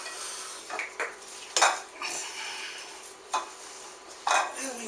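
Sausage roll filling is mixed in a bowl, heard as irregular clinks and scrapes of a utensil against the bowl, several sharp knocks spaced a second or so apart over soft shuffling, fairly close.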